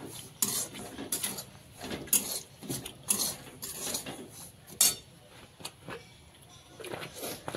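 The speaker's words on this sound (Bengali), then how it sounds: "সুজিটা ঘি দিয়ে ভাজা হবে। এখন সুজিটাকে ভালো করে একটু শুকনো নাড়িয়ে নিই।" Semolina being dry-stirred with ghee in a pan, a spoon scraping and clinking against metal in irregular strokes, close and moderately loud, with no talk.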